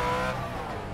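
A Ford Mustang Shelby GT350R pulls hard on the Tsukuba circuit, its engine note loud and revving in a brief, close burst with a faint tyre squeal.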